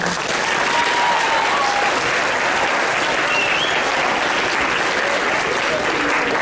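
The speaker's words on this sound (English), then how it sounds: "one more round of applause for her" Sustained applause from a school assembly crowd, steady and dense clapping filling the whole stretch with a faint cheer mixed in.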